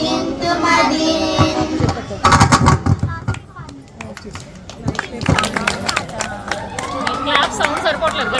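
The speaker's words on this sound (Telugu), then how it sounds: "క్లాప్ సౌండ్ సరిపోవట్లేదు గట్టిగా కొట్టమండి" A crowd claps in rhythm to a devotional song at a Vinayaka Chavithi celebration, with steady, fairly loud hand claps running under singing and voices throughout.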